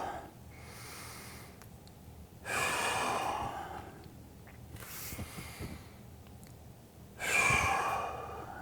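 Three or four heavy, breathy exhales during a bird dog exercise, each about a second long, spaced a couple of seconds apart with quiet breathing in between, close and fairly soft.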